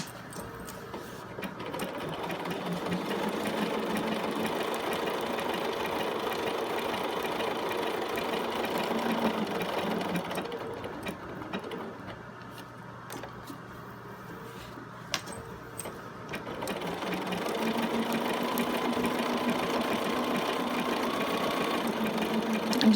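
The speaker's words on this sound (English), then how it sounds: "pay attention to the progression of the stitch, so that when you pivot, you're not sewing backwards prior to sewing forward" A sewing machine runs steadily while stitching a back pocket onto denim jeans, a continuous close mechanical whir that briefly slows and quiets midway at a pivot, then resumes at full speed.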